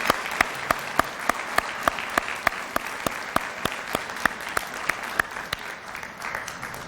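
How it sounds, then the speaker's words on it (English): Audience at a graduation ceremony applauding student speakers, sustained clapping with a few sharp, distinct claps standing out over a dense wash of hands, steady for about seven seconds. "I think we ought to give them another round of applause"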